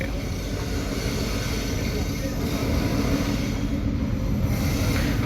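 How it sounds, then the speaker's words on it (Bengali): The Nakshikantha Express, bound from Dhaka to Khulna, rumbles into Pachuria junction in a dense, continuous, loud roar of wheels and carriages with faint squealing and no break. "সেটি কিন্তু পাচুরিয়া জংশনে প্রবেশ করল ঢাকার কমলাপুর স্টেশন থেকে"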